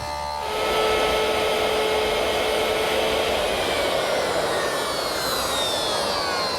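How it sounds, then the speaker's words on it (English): A table saw with a stacked dado head cutter, fitted with a sacrificial fence on a metal rip fence, cuts a 5/8 by 3/8 rabbet in pine: the motor spins up quickly, then holds a loud, steady whining roar. "To make the rabbet, I've set up my stacked dado head cutter at the table saw with a sacrificial fence on my metal rip fence."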